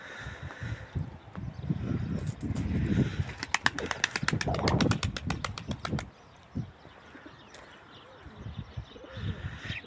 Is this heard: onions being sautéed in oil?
no